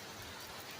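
Hail pours down steadily during a thunderstorm, a dense continuous hiss and patter of ice striking surfaces, heavy and unbroken, with no voices.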